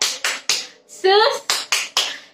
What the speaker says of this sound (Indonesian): kita mau tepuk Yesus dulu